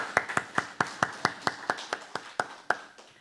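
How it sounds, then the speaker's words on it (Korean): Rhythmic unison clapping from a church congregation at a Sunday service in a prayer house, a dozen or so sharp, even claps close together, alone and without talk. "박수!"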